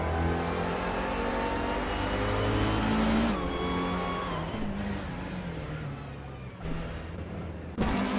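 A 1989 Toyota Celica racing in a video game: its engine revs loud and close, pitch climbing and dropping through gear changes, with a sharp burst near the end.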